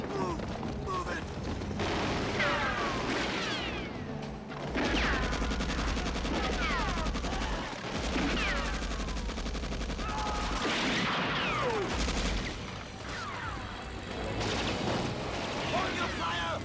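Gunfire in the GoldenEye film soundtrack, repeated bursts of shots and rapid automatic fire mixed with heavy impacts and shouting voices, loud and dense throughout.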